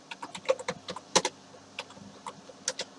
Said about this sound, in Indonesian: Itu tadi saya tidak melakukan apa-apa, hanya ngetik saja